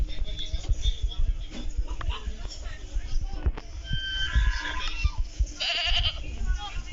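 A ram goat bleats several times in a video game over busy game sounds and background noise, with a person talking intermittently.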